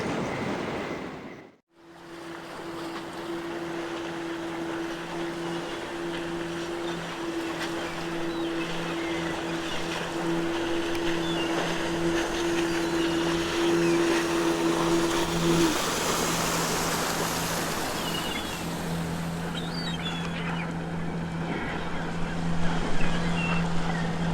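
Boat engine hums steadily alongside washing waves in the adventure game NiBiRu: Age of Secrets, a constant motor drone that later gives way to louder surf and water noise.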